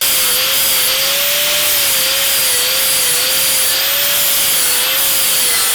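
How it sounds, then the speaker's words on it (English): Close, loud continuous grinding of a wing edge down to a knife edge on a Tacoma body part, a steady abrasive rub with a faint wavering motor whine underneath, no pauses. "So always grind off of it, and then flip it the other way, and grind the other side."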